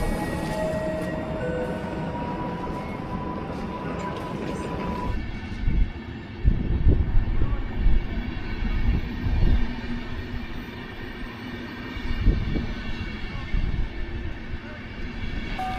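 Trains pull in and out of a Polish station on a rail journey from Łódź toward Wrocław, a low, rolling rumble that swells and fades in waves after an initial steadier hum, with faint voices in the background.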